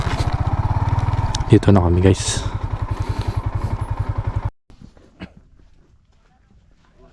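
A motorcycle engine putters close by near a farm at Mt. Arayat, Magalang, Pampanga, in a rapid even throb for several seconds before cutting out abruptly, leaving near silence; a voice speaks briefly.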